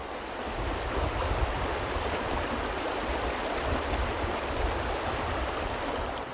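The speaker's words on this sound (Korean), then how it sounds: "와, 이 물줄기 소리가 어찌나 힘찬지요" Water rushes over a weir on the Taehwa River, making a steady, loud, close rushing hiss with a deep churning low end that holds evenly throughout, with no talking.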